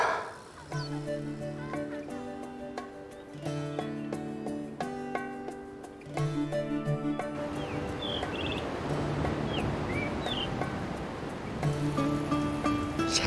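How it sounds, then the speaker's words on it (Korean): Surf washes along the tidal-flat coast of Buan on Korea's west coast as birds chirp in short, scattered calls, with steady wave noise growing stronger over background music. "새소리, 파도소리가 참 좋습니다."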